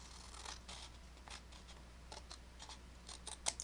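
Small scissors slicing through paper while making envelopes, a series of quick faint snips close by at uneven intervals, with a slightly sharper cut near the end over a quiet room.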